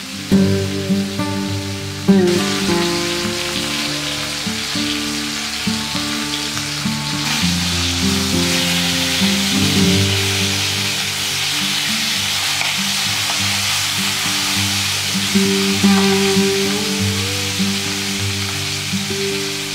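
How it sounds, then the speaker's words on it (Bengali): Rohu fish frying in hot mustard oil in a pan, a loud steady sizzle and crackle that runs the whole time, with bursts of stronger spitting along the way. "সরিষার তেলটা ভালো মতো গরম হয়ে এলেই মাছগুলো দিয়ে দিতে হবে।"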